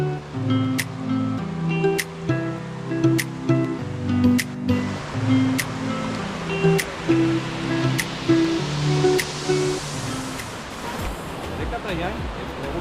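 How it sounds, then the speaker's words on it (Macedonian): The Janj river spreads into many small channels, cascades and little waterfalls. A steady rushing wash of water rises and grows dominant in the second half, under tonal music with sharp clicks that fills the first half. "Реката Јањ е преодична по тоа што се растура во мали ракавци, создавајќи безброј мали острови, водопади и каскади."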